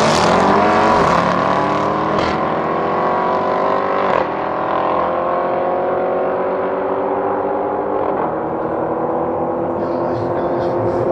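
An Audi RS6 Avant C7 engine drones loudly and steadily on a track, its harmonic tone sliding slowly lower over several seconds, with a few brief shifts and no talk.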